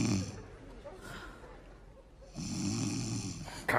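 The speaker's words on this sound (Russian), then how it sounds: "ты чё, храпишь, что ли?" Loud snoring from a comedy stage sketch, two long rasping snores separated by a quieter breathy gap, close and prominent.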